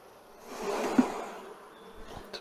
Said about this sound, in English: So we'll just shake the bees off of that.